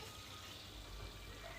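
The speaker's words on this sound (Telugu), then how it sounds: "కొన్ని వాటర్ వేసి" Water poured into a pan while cooking chicken curry, a soft, steady trickle heard faintly and briefly with no talking over it.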